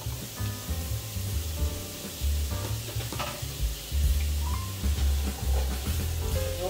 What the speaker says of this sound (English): what I'm doing is stir frying a mix of asparagus, tomato, carrots, and portobello mushrooms